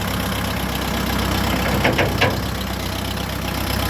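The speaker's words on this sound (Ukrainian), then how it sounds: "Трактор потужний, класний." A steady, loud Xingtai 454 tractor engine idling close by, with a low constant rumble and a few brief clanks in the middle.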